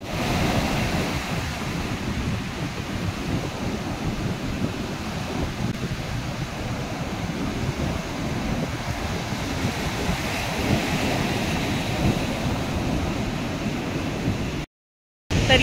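Sea waves wash steadily onto the shore at Ganpatipule beach, a continuous broad roar mixed with wind buffeting the microphone, with no voices, cutting out briefly near the end.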